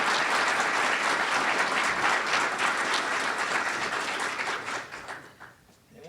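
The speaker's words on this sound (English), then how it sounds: "So if you will join me, please, in giving them a round of applause" Audience at the 2016 West Virginia Supreme Court of Appeals forum applauds to welcome the panelists, a dense, even wash of clapping that holds steady for about five seconds before thinning and fading out.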